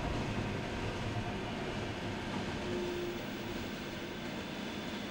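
Heilbronn light rail tram running near the main station, a steady broadband rumble and rolling hum throughout with no distinct clacks, fairly loud and continuous.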